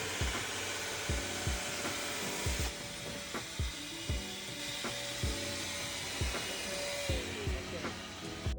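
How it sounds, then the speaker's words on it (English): A Hilti core drill bores into material with a grinding, whirring drone and repeated sharp knocks and rattles at a steady pace. Heard up close among indoor background noise. "This is basically a core drill for dummies."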